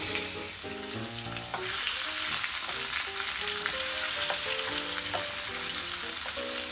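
Prawns go into a simmering Bangladeshi spinach curry and set off a steady close sizzle and bubbling, rising after the first second and holding, with light stirring clinks on top.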